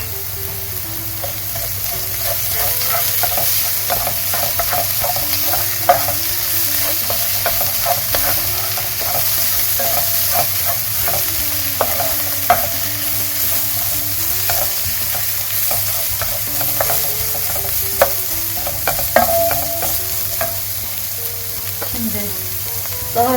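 Onions and leeks soften in a frying pan under a steady moderate sizzle, while a spoon stirs and scrapes repeatedly with frequent clicks against the pan and a low hum underneath.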